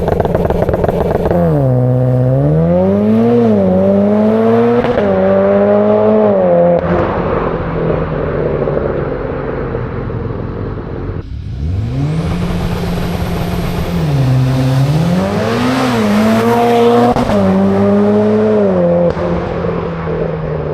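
Mitsubishi Evo X with 430whp launching hard on launch control through an industrial area, engine note climbing loud and close through several gear changes, a brief lift between them, then pulling again up to speed.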